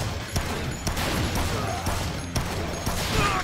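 Gunfire erupts in the zombie action game Dead Rising as an enemy blasts away with a shotgun, loud repeated shots cracking roughly every half second amid a dense, chaotic din.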